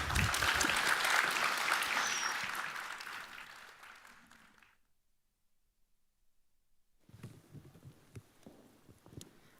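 An audience applauds forum panelists on the main stage of a Europe Forum event, a dense clapping that fades out over about four seconds, followed by silence and then faint room noise.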